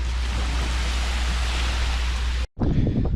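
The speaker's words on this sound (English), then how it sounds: "I hope the audio is good because there's a wind coming" Strong wind buffets the microphone on an open beach at Dry Tortugas National Park, a loud steady roar that cuts out abruptly near the end before gusting back in.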